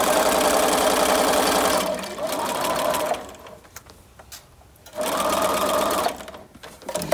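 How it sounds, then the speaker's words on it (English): A sewing machine stitching fabric for a kid's apron, running in two loud steady bursts with a fast mechanical rattle, separated by a quieter pause with small handling noises. "we're going to back up and stitch over this a couple of times to make sure it's really secure"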